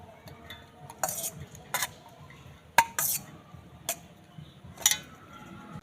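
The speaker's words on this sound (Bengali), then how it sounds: "ফুলকপিগুলো মিক্সার জারের মধ্যে নিয়ে নিচ্ছি" Cauliflower pieces dropped into a mixer jar, a handful of sharp clinks and light knocks spaced irregularly, close and fairly quiet against a soft room background.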